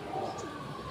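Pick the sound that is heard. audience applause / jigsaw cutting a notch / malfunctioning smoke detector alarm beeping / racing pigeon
racing pigeon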